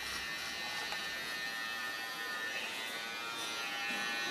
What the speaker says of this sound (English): you just swivel with small clippers round the ear and it gives a nice curve